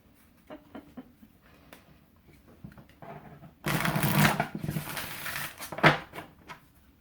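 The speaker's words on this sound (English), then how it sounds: "Ooh, I like the way this one shuffles." Starseed Oracle cards being shuffled by hand: soft papery riffling and patting that grows into a loud, dense flurry of shuffling midway, with a few sharp slaps near the end and no talk over it.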